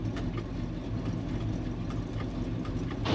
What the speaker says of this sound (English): I've left this idling because I wanted to see what the cooling system did.